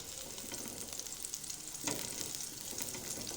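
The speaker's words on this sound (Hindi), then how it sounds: "घी रखेंगे फ्राई पैन में डाल के, और इसमें डालेंगे लहसुन" Garlic frying in ghee in a frying pan, a soft continuous sizzle with a brief stronger crackle midway as it is stirred.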